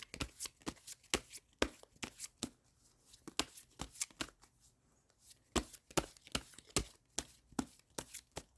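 Tarot cards are shuffled in quick riffling bursts, sharp papery snaps and flicks in uneven clusters with a short pause midway, close and fairly quiet with no talking.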